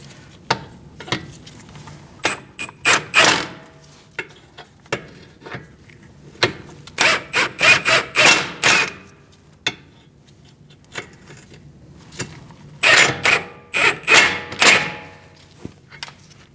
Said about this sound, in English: we're going to snug them up and torque them to 55 foot-pounds